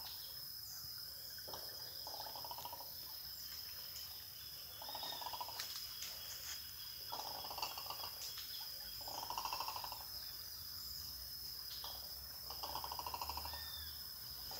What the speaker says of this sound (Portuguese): Parece um urubu d'água.